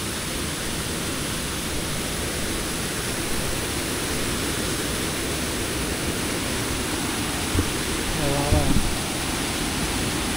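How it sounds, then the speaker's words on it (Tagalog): A strong river current rushes in a steady, loud, broadband roar that fills the whole stretch, with people talking faintly beneath it near the end. "Ang lakas ng agos mga man."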